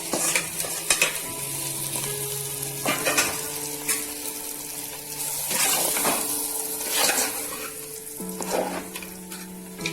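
Grated coconut frying in a pan for vegetable khichuri crackles and sizzles steadily, broken by stirring scrapes and a few light clinks of utensil on pot, with no talking.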